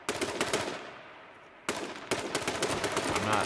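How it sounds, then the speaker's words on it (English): AK rifle fire in the video game H1Z1, loud rapid automatic bursts close by, a long volley, a brief gap, then another sustained burst. "Yep, he's got an AK now."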